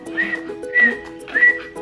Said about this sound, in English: Can you guys whistle?